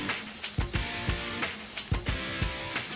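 An Aeroseal machine sprays aerosol sealant into residential ductwork, producing a steady hiss broken by sharp rhythmic clicks and pulses at a moderate, close level.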